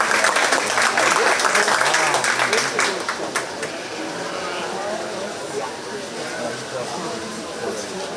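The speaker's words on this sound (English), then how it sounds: "Give her a really big hand for bringing in all her projects today." A crowd at a county fair 4-H sheep show applauds loudly in dense clapping that fades after about three seconds into murmuring crowd noise and talk.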